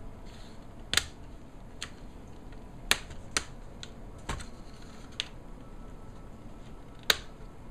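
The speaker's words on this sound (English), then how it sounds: "lift and pop free the remaining plastic latches" A handful of sharp plastic clicks from bezel latches popping free around the screen of an HP Mini 311 netbook, spaced irregularly over several seconds, close and fairly quiet, with no talking.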